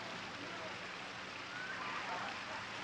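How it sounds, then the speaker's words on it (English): Steady, faint rain patter that hisses evenly throughout, heard in a scene from The Rocky Horror Picture Show. "Yes, it's raining."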